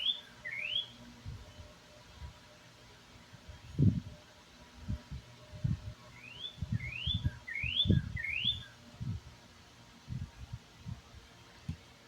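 Distant birds sing in short rising chirp phrases, repeated in small bursts, over soft rustling and low thumps nearby.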